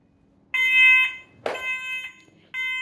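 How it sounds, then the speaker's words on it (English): A smoke alarm goes off indoors in a home, blaring loud shrill electronic tones in two bursts with a brief clunk between them, then starting again. "Now the alarm's going off."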